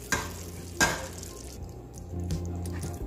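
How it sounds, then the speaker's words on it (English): Spoon scrapes and stirs through a pot of ground beef and bean chili, two sharp clacks against the pot followed by a soft, steady simmering bubble close by. "Then of course we need to add our beans. Then stir and allow to simmer."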